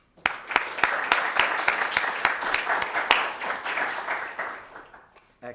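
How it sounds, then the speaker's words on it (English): Audience at a Caltech Space Challenge lecture giving a lecturer a warm welcome, a burst of dense clapping that starts abruptly, holds steady for several seconds, then thins out and fades. "please help me in welcoming him with a warm round of applause"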